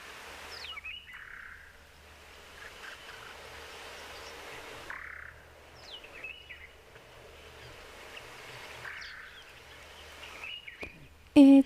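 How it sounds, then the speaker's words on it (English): A lapwing calls three times over a wetland with receding water, each a wheezy, rising cry spaced several seconds apart against a low steady background hum, moderately distant. "It's a lapwing."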